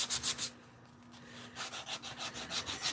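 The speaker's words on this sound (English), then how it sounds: "So I am sanding off the backing of a mirror from Dollar Tree, and it looks a mess." Abrasive sanding scrapes the backing off a Dollar Tree mirror in quick, close strokes, a burst of rubbing, a short lull, then a renewed run of regular passes.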